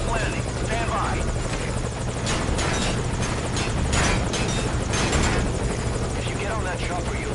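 A Metal Gear Solid V helicopter keeps up a loud, steady rotor thump and engine whine throughout, swelling briefly in the middle as voices talk under it.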